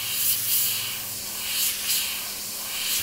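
An airbrush sprays thinned paint for micro airbrushing, a steady close hiss with gentle swells in strength, alone and unbroken.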